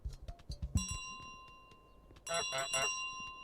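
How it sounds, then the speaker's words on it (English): Bell dinging in Untitled Goose Game, a few bright metallic rings with lingering tones, mixed with thuds and game sound effects, then a louder cluster of rapid rings near the end. "We're going to get the guy at the front's attention anyway by ringing the bell."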